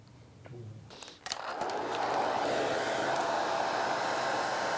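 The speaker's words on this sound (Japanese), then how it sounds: "ドライヤーで熱風を当てているのはプロペラですか？" A hair dryer kicks on and blows hot air steadily onto the propeller of a plastic model fighter plane, a loud continuous whoosh rising from a softer start and holding for several seconds with no talk over it.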